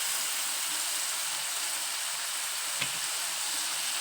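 Onion masala frying in a pan for an egg fry, a steady dense sizzle with one faint tap midway, close and continuous with no talk.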